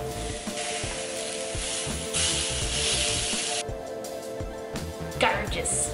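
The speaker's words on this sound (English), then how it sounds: "we're gonna spray our grill pan with cooking spray, and then we're gonna spray our peach" Cooking spray hisses from a can onto a grill pan and then onto a peach in two short bursts, heard over steady background sizzle and kitchen noise.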